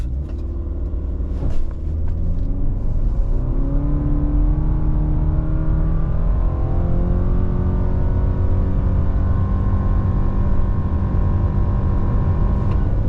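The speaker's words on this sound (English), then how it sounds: "0 to 60 in the Wilderness, Sport Sharp is on, traction off, brake rev." A 2023 Subaru Forester Wilderness launches from a brake rev and accelerates 0 to 60 mph at high altitude, its engine droning loudly and climbing steadily in pitch with a continuous rumble, no voices.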